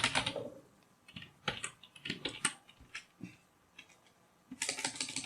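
Computer keyboard typing of Excel VBA code, bursts of quick close keystrokes separated by short pauses, with a dense flurry at the start and another at the end, no talking.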